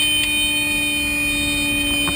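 A cockpit alarm on a passenger airliner going down into the ocean, recorded on a GoPro camera, blares as a loud, steady, continuous tone with layered harmonics, unbroken for the whole moment, with no voices.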